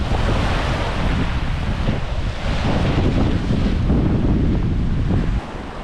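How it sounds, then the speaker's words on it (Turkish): Strong wind roars across the microphone over crashing waves at a yacht marina on the Turkish coast near Gökliman on a rough, stormy day, a loud continuous rumble that eases slightly at the very end. "Bugün baya bir rüzgarlı, dalgalı."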